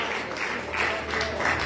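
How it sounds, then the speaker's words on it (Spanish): Church congregation applauds, a steady wash of clapping that is moderately loud and continuous throughout, with a faint murmur beneath. "Dale un aplauso."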